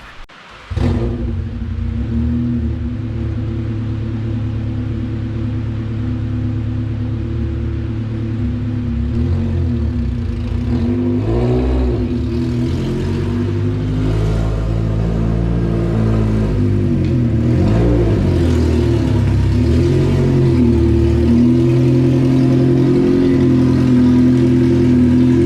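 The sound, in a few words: car engine slow cranking on a weak battery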